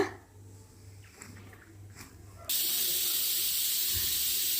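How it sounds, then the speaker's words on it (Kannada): A pressure cooker on a stove, cooking lentils and tomatoes for bassaru, bursts into a loud, steady hiss of escaping steam partway through, sustained to the end after a quieter stretch of faint kitchen noise. "ಕುಕ್ಕರ್ನ ಕ್ಲೋಸ್ ಮಾಡಿ ಸ್ಟವ್ ಮೇಲೆ ಇಟ್ಟು ನಾಲ್ಕರಿಂದ ಐದು ವಿಷಲ್ನ ಕೂಗಿಸ್ಕೊಳ್ತಾ ಇದ್ದೀನಿ"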